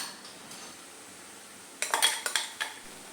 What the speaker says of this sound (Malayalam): നന്നായിട്ട് വെന്തതിന് ശേഷം നമുക്ക് ഈ അരപ്പിട്ട് കൊടുത്ത് നന്നായിട്ടൊന്ന് മിക്സ് ചെയ്തെടുക്കാം